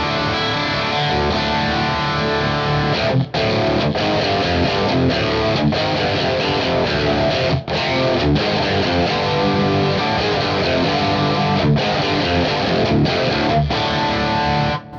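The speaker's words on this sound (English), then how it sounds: "So with mine, I added in some chorusing using the UA aux" An electric guitar runs through a Universal Audio UA aux chorus based on a preset, playing a song as a steady, thick, distorted wash, loud and continuous with brief gaps between chords.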